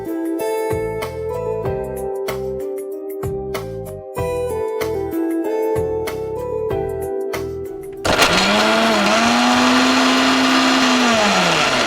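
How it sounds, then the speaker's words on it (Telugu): A mixer grinder blends soaked cashews with milk, a loud motor whine that starts abruptly after background music and holds steady, its pitch dipping slightly then settling as the blades churn. "ఇప్పుడు మనం దీన్ని మిక్సీ పట్టేసుకుందాం."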